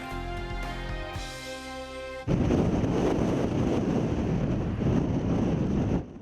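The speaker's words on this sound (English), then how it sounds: "Strong winds, some gusts in excess of 70 miles an hour pounding southern Colorado" A tonal hum gives way abruptly to loud, roaring wind buffeting the microphone, gusts over 70 mph in southern Colorado, sustained and gusting for several seconds before easing.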